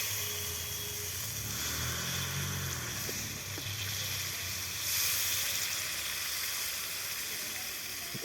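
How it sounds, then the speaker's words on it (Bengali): Water poured into a hot pan of fried curry paste for a cottage-cheese (tofu-style paneer) curry sets off a steady, close sizzle and hiss that holds for several seconds, with a brief louder surge midway. "এবার আমি জল দিয়ে দেব।"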